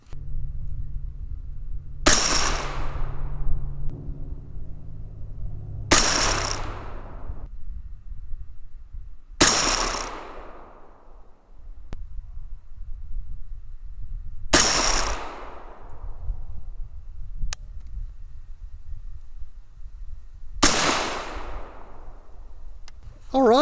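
Five sharp rifle shots from an Aero Precision upper firing M855A1 rounds, spaced a few seconds apart, each a loud crack with a decaying echo over steady outdoor background noise.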